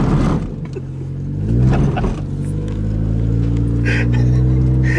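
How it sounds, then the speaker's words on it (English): A small vehicle's high-revving motor roars close and loud, its pitch climbing and falling through several revs over a deep rumble. "I'll probably blow the motor out of it. The thing's high rev."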